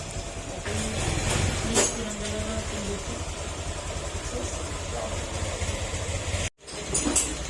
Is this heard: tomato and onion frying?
no